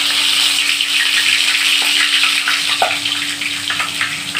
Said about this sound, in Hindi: दो मिनट लहसुन अदरक को पहले भून लूंगी